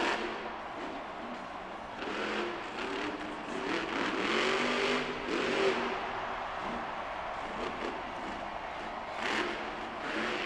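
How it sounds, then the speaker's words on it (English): A monster truck's engine revs loudly and continuously inside an Austin arena during a Monster Jam event, with its blown motor producing a steady, sustained roar and surges over crowd noise. "The motor is blown, it's gone, and Tristan England's run is over."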